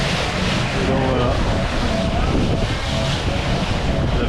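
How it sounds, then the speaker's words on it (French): Strong wind gusting around 20 knots buffets the microphone in a steady roar aboard a Mini 6.50 sailboat at sea, with rushing water and waves beneath, loud and continuous throughout. "on prend des petites rafales à 20 nœuds"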